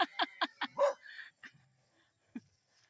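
A dog barks out on a rural path, giving four quick, close barks in a row, then a longer yelp and whine, and after a quiet gap one last short bark.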